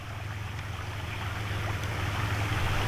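Creek water flows steadily beside its banks, a continuous broadband rush with a low hum underneath, holding even and fairly loud for the whole stretch with no voices.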